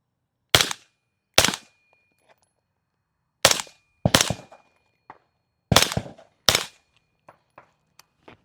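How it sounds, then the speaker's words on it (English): Suppressed rifle shots from a 5.56 rifle fitted with a SilencerCo Velos LBP suppressor, six sharp, loud reports spaced unevenly across several seconds, each fading quickly, followed by faint clicks and clinks. "First shots with the can."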